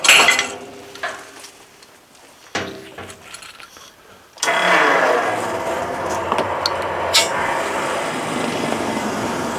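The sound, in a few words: Brearo battery-powered fuel transfer pump running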